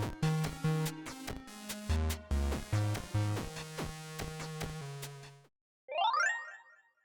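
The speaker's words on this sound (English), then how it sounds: "I decided on this hacky fix of adjusting the pitch scale down." Game music slowed and pitch-shifted down for a retry menu in a difficult game about fitting in, playing as a dense, busy loop of layered tones that cuts off, then a short rising chiming flourish after a brief silence.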